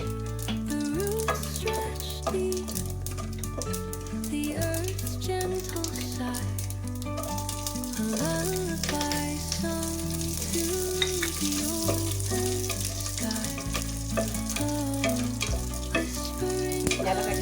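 Mustard seeds, chana dal and peanuts fry in hot oil in a pan for lemon rice, a steady sizzle running beneath loud background music throughout.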